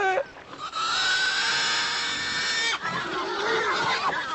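Shrill, sustained squealing of a herd of pigs in a film scene, a loud overlapping chorus of cries that briefly dips and then resumes, with no speech.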